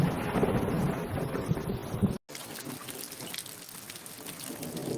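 Heavy rain hisses steadily while a low thunder rumble rolls underneath for the first two seconds. Then the sound cuts abruptly to plain, continuous rainfall.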